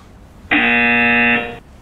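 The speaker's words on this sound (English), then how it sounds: "And there's another buzzer." A loud, steady electronic buzzer sounds once in an indoor room, holding a harsh, harmonic-rich tone for about a second before cutting off, with no talk over it.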